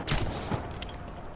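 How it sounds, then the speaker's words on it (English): Firework pistols fire in PlanetSide 2, a couple of sharp pops followed by crackling bursts that trail off into a hissing fizz, all fairly close and with no talking. "These are firework pistols."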